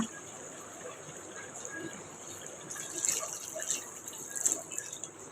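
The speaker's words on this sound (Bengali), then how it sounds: "এরপর যে আমি একটু পানি অ্যাড করবো মাংসটা কষানোর জন্য।" Water is poured into a pot of duck meat being cooked down, a faint splashing trickle that swells in short bursts toward the end over a quiet kitchen background.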